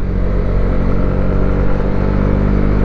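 Honda CB125R 2023 motorcycle engine held at high revs, a steady loud close-up drone with strong harmonic whine and no pauses.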